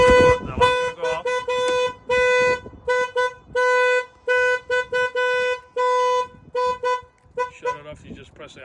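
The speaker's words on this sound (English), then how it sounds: "The alarm's gonna go off." Car alarm on a Volvo 730 sounds in loud repeated bursts of honking horn tones, each lasting under a second, pulsing in an irregular rhythm close by before stopping.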